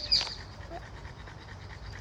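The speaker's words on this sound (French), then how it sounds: "Mon Gasti qui respire fort" A dog pants in quick, soft rhythmic breaths, close by, with a faint bird chirp near the start.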